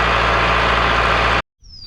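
A tractor engine drones loud and steady while tilling a deer food plot, then cuts off abruptly, leaving near silence and faint background sound.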